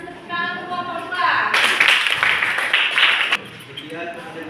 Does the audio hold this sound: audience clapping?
yes